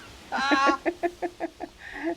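A man imitates chicken noises with his voice, a drawn-out squawk followed by a rapid series of short clucking bursts and a final trailing cluck, heard fairly close with little else around.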